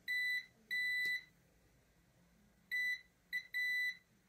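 A multimeter's continuity tester on a Nintendo Switch circuit board, probing capacitors near a buck regulator, gives five clear high-pitched electronic beeps of uneven length in separate bursts, with quiet pauses between them and no talk.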